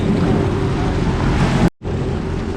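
A Sea-Doo RXT-X 300 jet ski pounds over choppy waves, loud roaring water and wind rush close to the microphone, cut by a brief dropout near the end before the rush resumes.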